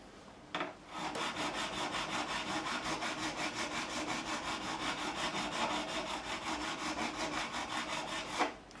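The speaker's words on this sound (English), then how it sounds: "Clean the diamond file." A diamond file is rubbed clean after work on the frets of a custom Fender Telecaster, giving a continuous rhythmic rasping scrape close by that starts and stops abruptly.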